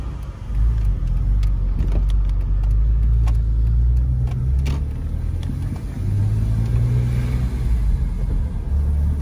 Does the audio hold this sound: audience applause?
no